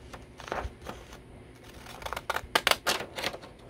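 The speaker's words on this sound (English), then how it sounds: "I'll use my scallop scissors that I bought not too long ago at the thrift store." Scallop scissors snip through paper in a series of crisp, close cuts, sparse at first and then quicker and louder, with faint rustling between the snips.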